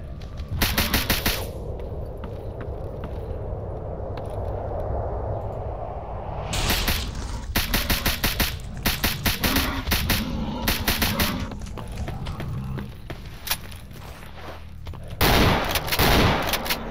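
Gunfire in the video game S.T.A.L.K.E.R. Anomaly, the desolation mod: loud bursts of automatic shots in separate volleys, with a quieter stretch between them and no voices.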